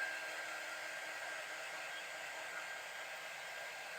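A hair dryer or heat tool blows steadily on wet craft paint on a floral box, a loud, continuous close-up whoosh with no break and no talking.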